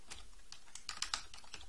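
Computer keyboard keys tap in a quick, irregular run of close clicks as commands are typed into a Linux terminal over SSH on a Wansview IP camera, with no voice over it.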